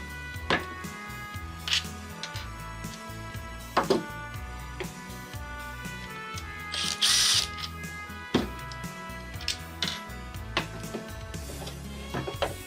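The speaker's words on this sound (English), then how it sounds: "So I'm just pulling these screws out, and I'm going to assemble this floodlight." Screws are removed while a Makita DML805 cordless and corded worklight is assembled, giving scattered close clicks, ratcheting and small plastic and metal handling knocks with one brief louder buzzing burst midway.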